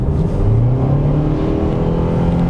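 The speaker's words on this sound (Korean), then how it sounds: "가솔린 엔진은 그래도 힘을 좀 뽑아냅니다" A Renault Samsung QM6 SUV with a gasoline engine accelerates, a close, steady engine hum rising slightly in pitch over a couple of seconds with road noise underneath.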